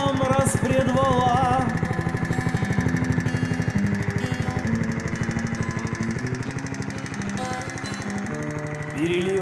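Alpha RX moped engine idling in cold winter weather with a fault of knocking valves, a steady close mechanical drone with rapid ticking running continuously beneath faint music.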